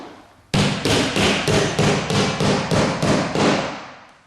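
Nine evenly spaced hammer blows drive nails into baseboard by hand, each a sharp, loud knock with a short ringing tail, close and steady in rhythm.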